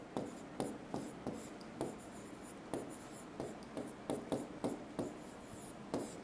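A teacher writes on the board during a science lesson, a quiet series of short scratchy strokes in an irregular rhythm with brief pauses between them.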